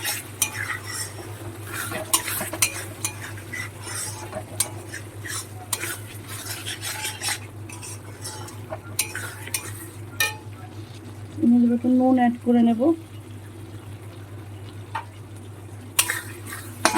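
Mutton liver being stirred and sautéed in a pan with water added, a continuous sizzle with frequent spoon scrapes against metal, and someone briefly speaking midway over the cooking.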